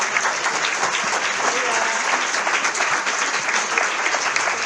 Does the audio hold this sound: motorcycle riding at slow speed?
no